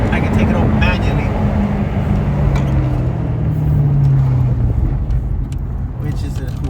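A Maserati GranTurismo MC sports car is driven with manual gear clicks through first, second and third. It gives a steady, loud engine drone and road rumble heard from inside the cabin, with a rising tone partway through and a person talking over it.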